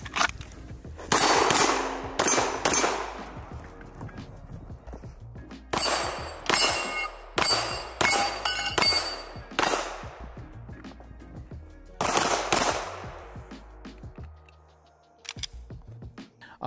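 A pistol fitted with a red dot sight fires at an outdoor range during occluded-eye shooting practice: sharp, loud shots in quick strings of several each, separated by short quiet gaps.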